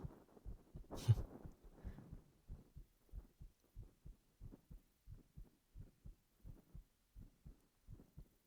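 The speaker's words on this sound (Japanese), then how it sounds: "心音早いよって。" Heartbeat heard through the chest in a binaural recording, a steady, faint, low double thump repeating evenly, with a brief rustle near the start and no talking.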